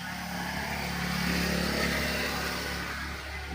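The engine of a Filipino bangka boat running unevenly because of a broken stud bolt head, a steady, loud, rough mechanical drone that swells slightly in the middle and holds throughout.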